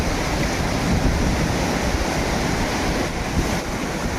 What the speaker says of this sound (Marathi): या अशा ओढ्याच्या पाण्यात माणूस मोकळा चालायला म्हटलं तरी अवघड असतं